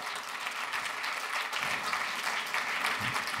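A live show audience in Milan claps in a dense, sustained wash of applause, close and even for the whole stretch with no voices rising above it.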